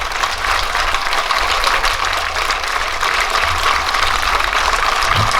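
An audience at a live comedy show breaks into dense, steady clapping that carries on evenly for several seconds with no voices over it.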